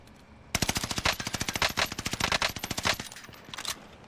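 Rapid automatic gunfire in a Call of Duty Rebirth quads match: a loud, continuous stream of shots lasting over two seconds, then a shorter burst after a brief pause. No talking.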